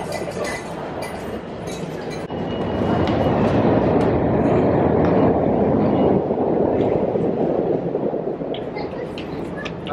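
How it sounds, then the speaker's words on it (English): A New York subway train passes nearby with a loud, sustained rumble and rattle of wheels and cars that builds after a couple of seconds and stays steady. "There's the subway."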